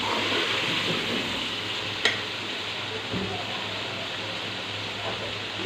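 Aloo chicken masala with tomatoes fries in a pot on high heat, giving a steady close sizzle with an occasional sharp clink of a stirring spoon against the pan.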